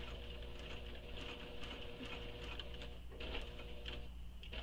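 A sewing machine stitches along the short edge of a crossbody bag pattern piece with a quiet, fast mechanical whir and ticking. The sound is steady and close, with small clicks near the end and no talking.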